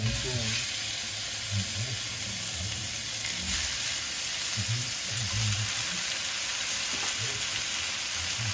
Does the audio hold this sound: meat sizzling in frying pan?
yes